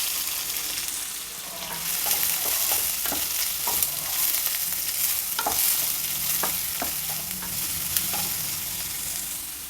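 Chopped onions tossed into oil with fried cumin seeds for paneer matar curry, a loud continuous sizzle broken by repeated scraping stirs against the pan, no one talking.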